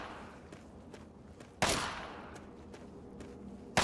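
Gunshots from someone at shooting practice: one sharp, loud report midway with a lingering tail and another at the very end, spaced by faint ticking and soft background noise at low overall level.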